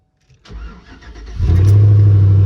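A 5.3 LS V8 in a rusted-out Chevy Tahoe cranks briefly and fires, then settles into a loud, steady idle close by, with no talking.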